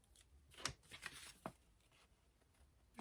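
Scissors snipping through card stock, a few short crisp cuts in a quiet room, close and faint, spaced irregularly.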